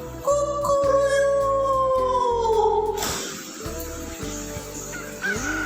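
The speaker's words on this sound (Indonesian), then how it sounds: "Tiba-tiba berkokoklah ayam." A rooster crows with a long, loud drawn-out call that slides downward and stops, followed by a clattering burst and scattered clicks and knocks nearby.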